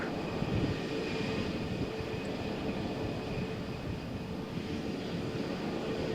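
SAS airliner bound for Oslo at Malaga Airport on a stormy morning, a steady loud jet engine roar that holds without pause and no voices.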